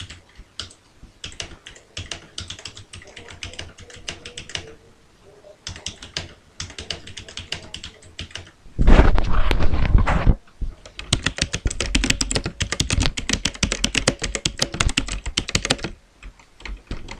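Typing text into Notepad on a computer keyboard, with rapid irregular key clicks in bursts separated by short pauses and one louder clattering stretch midway. The clicks are close and alone.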